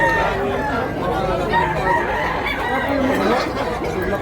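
A rooster crows among caged fowl at a chicken sellers' market in Tabunok, Cebu, half buried under steady crowd chatter and clucking nearby.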